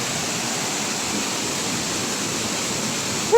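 Waterfall at a blue-water falls beside a steep cliff, a steady, broad rushing roar of falling water that holds evenly throughout with no voices.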